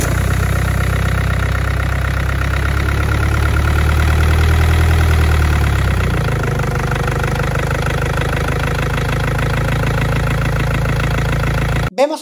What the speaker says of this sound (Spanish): Tenemos este sonido tractoril cincuentero que automáticamente nos está diciendo que la inyección no es precisa, o bien por tiempo o bien por cantidad